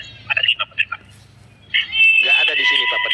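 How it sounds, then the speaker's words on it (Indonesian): A telephone rings during an online call: a short electronic ringtone pattern repeats, then a sustained brighter ring tone follows, fairly loud and close. "Ada telepon rupanya Pak Pendeta."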